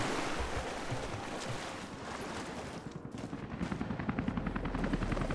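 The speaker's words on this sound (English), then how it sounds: "they brought two heli choppers this time" Helicopters in the video game Rise of the Tomb Raider: a dense, steady rotor roar that grows into a rhythmic, loud chopping toward the end, with no talk over it.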